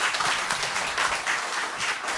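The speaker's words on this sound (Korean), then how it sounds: "우리 다시 한번 격려의 박수 드리겠습니다." A church congregation at a revival service applauds in a steady wash of many hands, with slight swells in the clapping and no voices standing out above it.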